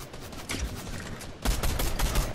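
Gunfire in a ranked battle royale video game, bursts of rapid shots that grow denser and louder midway into a sustained fusillade, with no one talking.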